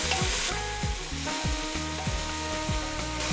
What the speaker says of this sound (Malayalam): അതിനുശേഷം പച്ചമുളക്, ഇതൊന്ന് വഴറ്റി കൊടുക്കാം